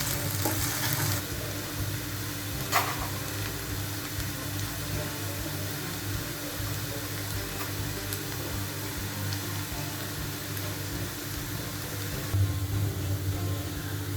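Potatoes for aloo bhaji fry in a pan with a steady, close sizzle, stirred now and then with a spatula that adds occasional scraping clicks.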